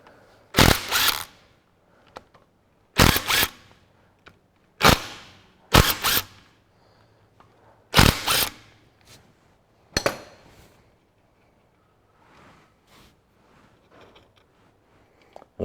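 Ratchet wrench worked on a 1954 Ferguson TEA20 tractor during camshaft removal; about six short, sharp clicking bursts spaced a few seconds apart, close and loud, with quiet gaps between.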